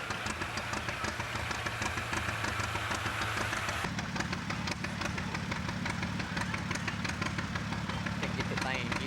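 A tractor engine idles at a 1990 tractor pull, a steady mid-pitched running note with a knocking rhythm, heard continuously at moderate distance beneath crowd chatter and talk.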